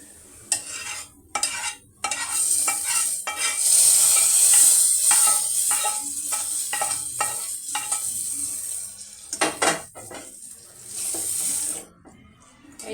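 Ginger and garlic fry in a pan for a pasta soup, with repeated close stirring and scraping strokes over an uneven sizzle that swells and fades.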